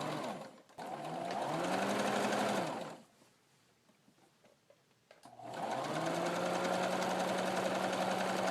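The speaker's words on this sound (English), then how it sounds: "I'm going to zigzag the whole thing here, just to get the raw edges turned" A sewing machine zigzag-stitches the raw edges of an ironing board cover in a steady, fast mechanical whir, running for about three seconds, stopping briefly, then starting again close and loud.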